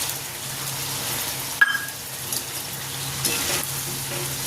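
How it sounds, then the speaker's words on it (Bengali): Pointed gourd cooks in a pan with a continuous soft sizzle, broken by a brief sharp clink and a short splashing gush as milk is poured in, then the sizzle settles again. "এবার এতে দিয়ে দেবো দুধ।"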